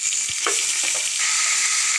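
Minced chicken added to a pan of oil and onions for village-style kheema curry fries with a loud, steady sizzle, a few soft stirring knocks at the start giving way to an even hiss.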